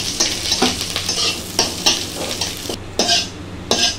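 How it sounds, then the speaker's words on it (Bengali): Curry leaves sizzle and crackle in hot oil while being stirred for homemade chanachur, a close, loud spitting fry with sharp bursts and scraping stirs, no voices. "কারি পাতা দেওয়ার সাথে সাথে যখন ঝাঁটা করে উঠলো"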